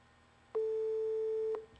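Viber for PC on Windows 7 sounds a single steady electronic call tone, one sustained pure beep of about a second, clear and alone against a faint background hiss.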